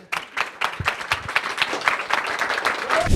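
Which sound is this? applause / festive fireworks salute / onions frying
applause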